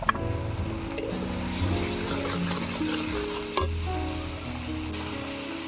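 Ground spice paste of turmeric, chili, cumin and coriander powder with salt fries in a pan, a steady sizzle under stirring, with sharp scrapes near the start and a louder knock partway through, over faint sustained background tones.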